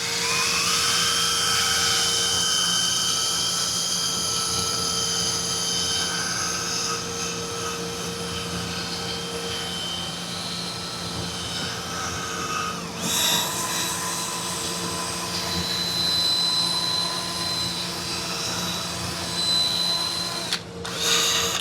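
Power polisher running steadily on a car wheel during finishing work at home, a continuous loud whirring motor tone with a brief dip partway through, no talking.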